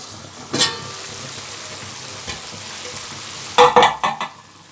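Meat frying in a pan while its released water cooks off, for an Upper Egyptian taqliya: a steady sizzling hiss throughout, broken by a sharp stirring clatter early on and a cluster of louder scraping knocks near the end.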